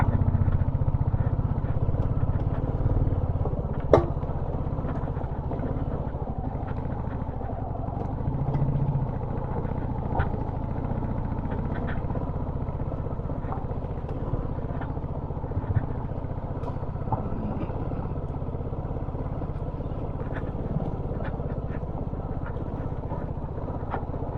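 A Royal Enfield motorcycle climbs an off-road track near Ooty, its engine holding a steady, continuous drone at moderate distance with occasional clatter and knocks from the rough ground, and no talk over it.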